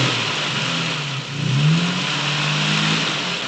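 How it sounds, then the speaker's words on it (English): A car engine revs in a 1960 Twilight Zone episode, a steady mid-pitched motor with a rising rev swell in the middle, continuous and fairly close under a faint background hiss. "Could you imagine just seeing your car backing itself up, like, with no one in it, then trying to run you down?"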